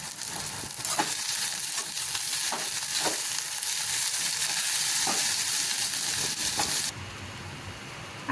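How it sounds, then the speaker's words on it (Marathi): Sabudana khichdi ingredients with salt, sugar and coriander being stirred in a pan over low gas, giving a steady frying hiss with periodic scraping strokes of the spoon, continuous and close. "आपण हे सर्व मिक्स करून घेऊया."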